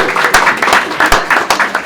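Audience applause for a panel of speakers at an Indigenous entrepreneurship and NAIDOC Week meetup, steady dense clapping with a few sharper claps standing out, fairly loud and close throughout.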